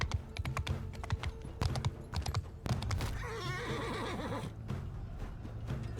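Horse hooves clip-clop in a rhythmic series in the Mount & Blade 2: Bannerlord video game, then a loud whinny rings out, with faint keyboard clicks in the background.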